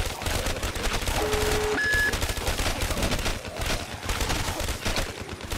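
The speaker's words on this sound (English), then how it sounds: "You just sit here, keep shooting, shooting, shooting." Sustained automatic gunfire in the Call of Duty Zombies Chronicles video game on the Moon map, dense rapid shots firing continuously and loudly throughout with brief tonal game sound effects.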